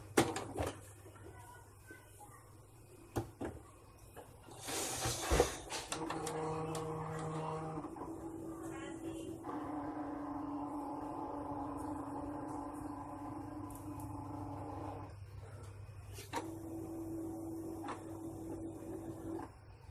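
A Canon iP1980 inkjet printer powering on, giving a few clicks and a short mechanical clatter, then a steady whirring and humming of its motors running in the foreground.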